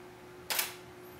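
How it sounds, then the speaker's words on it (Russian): Canon camera autofocusing with the Speedlite 600EX-RT flash's AF assist engaged: a single short, faint mechanical whirr of the lens motor in a quiet room. "фокус, как слышите, цепляется за и производится фокусировка"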